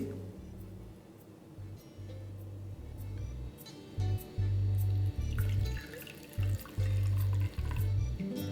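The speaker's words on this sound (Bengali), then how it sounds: "এবার জলটাকে ঝরিয়ে নেওয়ার জন্য আমি এটাকে হালকা একটু এইভাবে প্রেস করে নিচ্ছি" Freshly made chhana pressed by hand in a cloth so the whey drains out, with water trickling and dripping steadily and heavier pulses of flow coming in bursts, close by.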